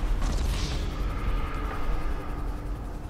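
Explosions in the video game GTA V erupt as a heavy, rumbling blast that decays into a sustained low roar, loud and close with no talking.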